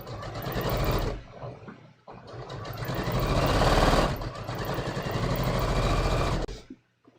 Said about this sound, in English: let's finish sewing now